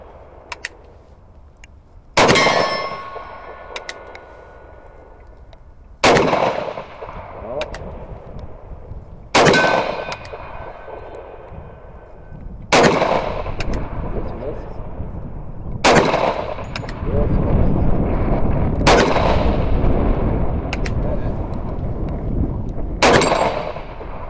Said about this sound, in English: put some more rounds through it. Let's do some double action work.